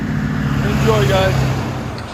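Chevy Silverado truck with a 5.7L V8 and Magnaflow exhaust idles with a steady low rumble, a faint rise and fall in pitch, and a background tone.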